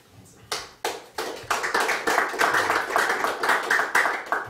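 A small church congregation at an opening worship service claps: a few scattered single claps first, then steady rhythmic applause building and holding, fairly close.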